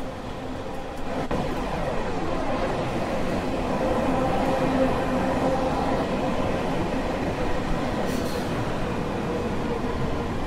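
A London Underground Bakerloo Line train runs in the Train Sim World 2 video game, giving a steady, loud rolling rumble with a constant mechanical hum throughout and no pauses.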